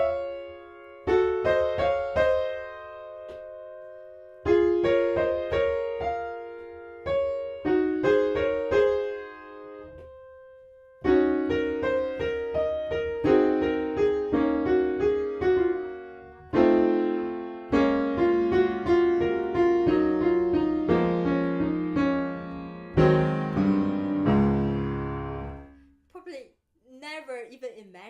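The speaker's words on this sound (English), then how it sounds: "Never even imagined Clair de Lune would sound like this" Piano plays Clair de Lune at fortississimo, the loudest dynamic, in hard-struck phrases separated by short pauses, with a brief voice at the very end.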